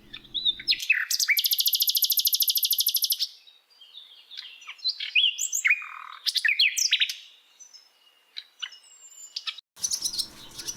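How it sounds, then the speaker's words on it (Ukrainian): A nightingale sings nearby and loud: a long sustained trilling phrase, then varied whistles, slurred notes and rapid chattering bursts separated by short pauses. "Соловей."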